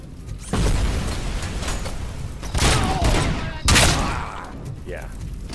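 Gunfire in the video game RoboCop Rogue City, with bursts of shots and loud impacts layered over continuous game noise, the heaviest blasts landing near the middle and later in the stretch.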